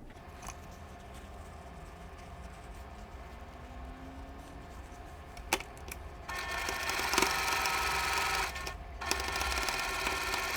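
A sewing machine stitches fabric onto ornament quilt block pieces, a low steady whirring hum that grows louder and busier midway, with a few sharp clicks, close by and without talk.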